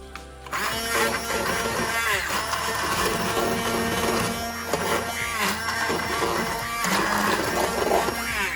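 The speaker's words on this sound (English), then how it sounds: "I'm going to use my immersion blender. And we're just going to grind it up." An immersion blender grinding hot soup, a continuous loud motor whir with churning liquid that starts abruptly and holds steady, with small shifts in pitch and texture as it works.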